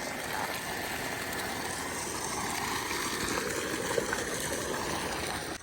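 Irrigation water from a motor-driven pump flows steadily through sandy farm soil near a lemon garden, a constant rushing stream with a low engine hum beneath, no clear shutoff heard.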